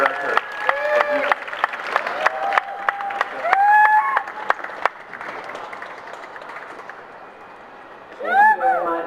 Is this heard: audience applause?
yes